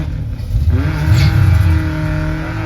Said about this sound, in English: No, that's a Ranger doing a clutch slip.